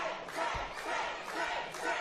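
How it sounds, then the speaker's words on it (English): Wrestling crowd at the Lamont Furnace venue roaring in rhythmic, surging swells, a dense wall of many voices chanting and yelling throughout. "this Lamont Furnace crowd responding very well to Trey Lamar"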